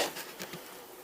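Wasps attacking a honey bee hive buzz up close, a brief, fairly faint, continuous insect hum with slight swells as they fly past.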